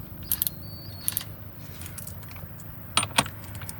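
Metal tools clink and jangle as a cordless ratchet, adapter and 24mm socket are picked up, with a few short, bright metallic rattles in a quiet workspace with a faint background hum.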